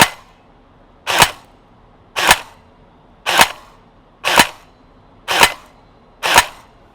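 LCT AK airsoft electric blowback rifle fired in six sharp single shots about one second apart, each a crisp mechanical snap with a brief clack, clear and close in a quiet room.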